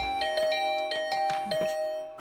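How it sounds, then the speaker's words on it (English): A doorbell in the video game The Hundred Line is rung over and over, its bright chiming tones repeating in quick, uneven bursts with short gaps between presses, fairly loud and close. "I started to furiously ring the bell over and over."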